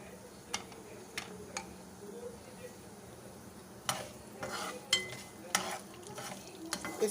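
Half teaspoons of cumin, nigella and fennel seeds frying in oil for a tempering: a quiet, steady sizzle with scattered light clicks and taps of a stirring spoon against the pan, growing busier toward the end.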